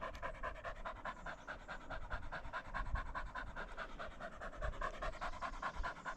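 A dog pants steadily and rapidly, close by, with quick rhythmic breaths continuing throughout and no talking.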